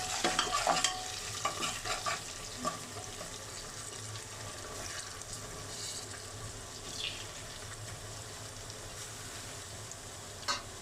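Onions fry in oil in a pan for chicken gizzard and liver curry, giving a steady close sizzle with scraping stir strokes and a clink near the start, no talk.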